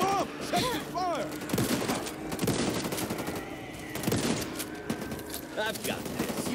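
Rapid gunfire bursts and fusillades from the co-op zombie shooter Back 4 Blood crackle almost nonstop, with shots overlapping and thumping, while characters shout and talk over the fighting.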